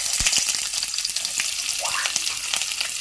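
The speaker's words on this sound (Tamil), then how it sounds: "இது எல்லாத்தையும் போட்டு இது வந்து கொஞ்சம் நேரம் நல்லா வந்து ஃப்ரை ஆகட்டும்." Onions, garlic, cinnamon stick, green chillies and curry leaves fry in hot oil for a mutton blood fry, a steady dense sizzle close by with scattered pops and a few scraping stirs.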